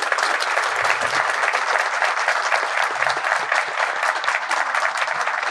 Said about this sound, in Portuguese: Eu vou pedir com entusiasmo, mas muito entusiasmo, uma salva de palmas